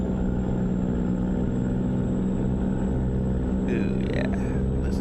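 A modded truck in a trucking video game played with a Logitech G923 wheel cruises at about 75 with a steady, loud, low engine drone and rumble throughout, and a few faint higher tones near the end.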